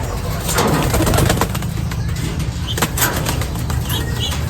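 Pigeons being bathed for the first time, with birdlike calls and soft cooing plus bursts of flapping wings over a steady low rumble of background noise.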